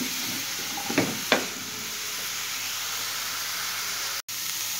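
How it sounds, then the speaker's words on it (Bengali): Cauliflower frying in hot oil gives a continuous, even sizzle and hiss, broken by a couple of light utensil knocks early on and a brief drop-out near the end. "আমি ফুলকপিটা ভেজে নিয়ে আবার ফিরে আসছি 5 মিনিট পরে"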